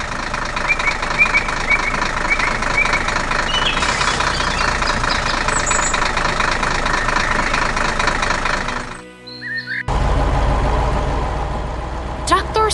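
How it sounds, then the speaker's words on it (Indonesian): Tractor engine running while drilling the ground in a forest, a loud continuous mechanical drone with knocking pulses, broken by a short near-silent gap before the engine noise returns at full strength. "Traktor sedang bekerja keras di hutan."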